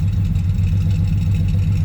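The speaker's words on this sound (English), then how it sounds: "Here, once again, you can hear the exhaust coming out the driver's side." Deep, throaty exhaust rumble from a 1977 Airstream Argosy motorhome powered by a stroker Chevy 454/496 big-block, heard from the driver's side as a steady, loud low-pitched drone with no talk.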